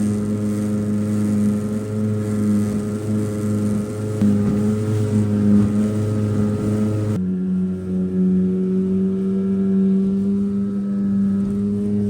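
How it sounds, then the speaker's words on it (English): A small aluminium tinny motorboat drones steadily as it travels from the marina, a low outboard hum with a tonal whine that shifts pitch partway through, continuous and close with no talking. "we have to travel on the tinny too, because we've got to get it there"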